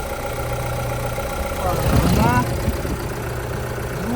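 A 2020 Renault Master van's engine idles steadily just after an engine mount replacement, running evenly with a brief louder swell in the middle, while someone talks over it.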